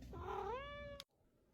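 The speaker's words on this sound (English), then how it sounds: "Sorry, you may hear my cat in the background." A pet cat gives a single drawn-out, rising and falling meow indoors, fairly close and clear, cutting off abruptly with a short click before quiet room tone.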